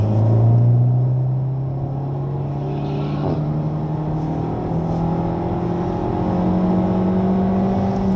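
A Honda Civic Type R accelerates on the Le Mans track, its engine note rising steadily in pitch as it pulls through the gears, loud and close from inside the cabin.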